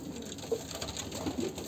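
Pigeons of mixed breeds, including Allahabadi birds, coo softly in a loft: a few faint, low murmuring calls spread over a quiet background hum.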